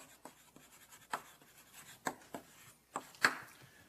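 A lecturer writes on a board in an electronics lecture hall, producing a string of scratchy strokes and taps, with about a dozen uneven marks heard up close and no voice.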